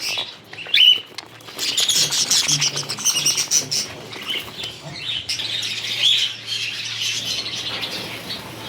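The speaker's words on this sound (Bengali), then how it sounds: "বদ্রি পাখি, বাজরিগার পাখি আছে।" Budgerigars and other caged pet birds in a home bird collection keep up a dense, continuous chatter of chirps and tweets, loud and close throughout with no pauses.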